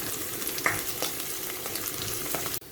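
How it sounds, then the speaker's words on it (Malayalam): Green chillies frying in oil in a pan while being stirred, a steady close sizzle with scraping stir strokes running throughout, then cutting off abruptly at the end. "പച്ചമുളക്, നമുക്കൊരു ഗോൾഡൻ നിറമാകുന്ന വരെ ഒന്ന് ഇളക്കി കൊടുക്കാം."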